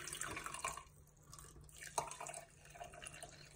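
Cold brew coffee, steeped 24 hours, poured slowly through a strainer or muslin cloth, trickling and dripping unevenly with a brief louder splash partway through, close and fairly quiet.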